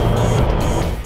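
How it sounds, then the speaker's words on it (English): A brief, loud engine blip from a 2007-2017 Jeep Wrangler JK fitted with a Sprint Booster, the throttle snapped with the clutch pressed, the roar rising briefly and then easing off. "Even just blipping the throttle when I have the clutch depressed, it definitely responds a lot faster than it did from the factory"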